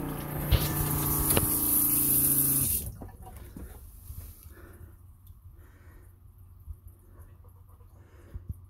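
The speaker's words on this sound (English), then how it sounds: "We'll turn the pump on for a second and see if there are any leaks first." Electric water pump on a pressure-switch setup switched on for a leak test, a loud steady whirring drone for a few seconds, then it stops and quieter splashing and rattling follow.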